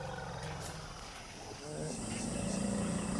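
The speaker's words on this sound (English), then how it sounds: "But an elephant's trumpet can only be heard over short distances." An elephant trumpets in the wild, a loud, rough roaring blast that swells toward the end, heard fairly close with no talking.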